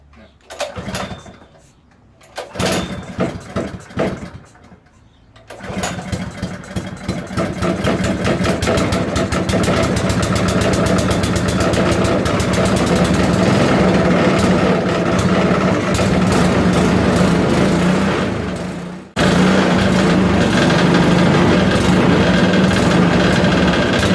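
Small engine on a custom-built go-kart sputters through a few uneven starting attempts, then catches and runs steadily with a loud, buzzing drone. It cuts out briefly near the end before resuming at the same steady pitch.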